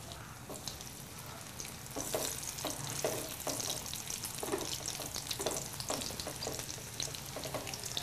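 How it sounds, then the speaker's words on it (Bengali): Eggplant slices frying in hot mustard oil give a steady, close crackling sizzle, with bursts of spattering and occasional stirring or scraping sounds layered over the continuous hiss. "বেগুনটাকে ভেজে নিতে হবে"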